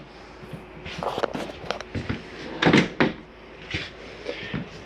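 A drawer in a Flagstaff 832IKSB RV opens and closes among several sharp knocks and wooden bumps, scattered thuds and slides spread over a few seconds.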